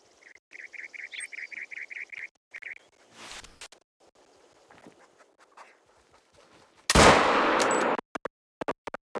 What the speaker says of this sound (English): Gunshot will keep them spooked just as well as us making noise